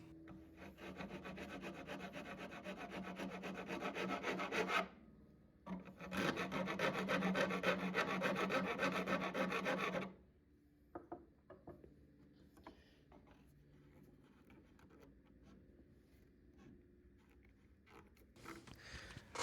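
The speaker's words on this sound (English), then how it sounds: "it just makes life so much easier to work out where you need to rasp next in order to get this shape" Rasping a horn nock for an English longbow: two long bursts of steady, close, loud scraping strokes, a brief pause between them, then quieter scattered handling and tapping noises.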